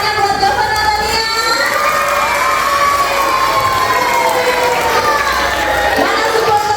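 Children cheer and shout together at a school Independence Day proclamation-reading contest in Indonesia, a dense, loud, steady crowd noise with high overlapping shrieks and whoops throughout, with voices calling over it.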